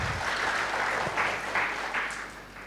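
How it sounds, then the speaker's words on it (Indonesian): A congregation applauds during a Pentecostal church service, a steady wash of clapping filling the room throughout, with a few louder bursts standing out near the end. "Yang mau berikan tepuk tangan meriah buat Tuhan kita."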